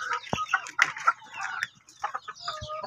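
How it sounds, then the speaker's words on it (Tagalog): Chickens cluck and chatter up close in a breeding pen on a poultry farm, a run of short irregular calls with overlapping birds and no talk. "ito yung mga pinapalaki namin ng mga sisiw"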